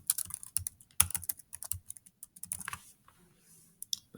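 Fingers type on a computer keyboard, a quick uneven run of close, light key clicks with short pauses and a flurry near the end.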